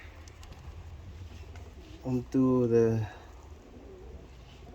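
A racing pigeon held against a handler's body during a 2-in-1 PMV vaccination gives a short, close cooing phrase of about a second. Someone speaks before and after it.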